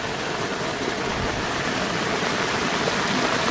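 Rainwater floods a damaged road after heavy rain, flowing in a steady, dense rush that sounds close and fairly loud, with no voices over it.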